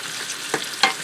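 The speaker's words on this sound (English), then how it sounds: "I'm going to spread it out so that it fries evenly" Shrimp frying in a skillet as they are spread out, an even close sizzle with two quick scrapes of a utensil against the pan.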